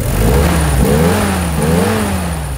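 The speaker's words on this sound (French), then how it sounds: "Elle a le woof de toutes les Jeeps, vraiment le moteur c'est tout." A Jeep Willys engine runs steadily at close range, a loud continuous low-pitched rumble with a slight rise and fall in revs throughout.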